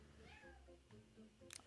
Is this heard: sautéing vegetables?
no